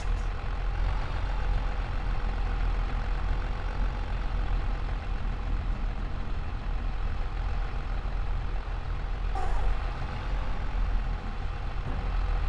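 A tractor engine in a farming video game drones steadily at low idle while maneuvering, a constant rumble with a brief higher-pitched squeal or hiss near the end.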